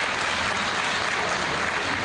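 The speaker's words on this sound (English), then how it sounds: "You can clap for me a little bit." Conference delegates at a joint annual local government assembly break into applause, a dense, even wash of clapping from a large hall, steady and fairly loud for a couple of seconds.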